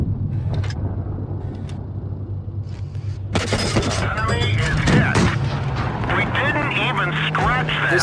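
Tank guns firing and shells hitting in World of Tanks Blitz, a German Pz.II light tank battle, with sharp booming shots and rumbling impacts mixed under ongoing commentary.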